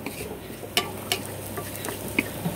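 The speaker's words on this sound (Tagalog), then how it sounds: "Ginigisa ko guys yung aking pagkain." Onion and vegetables for pinakbet are sautéed in a pan, giving a soft continuous sizzle broken by a few quiet clicks and scrapes of stirring, with no voices.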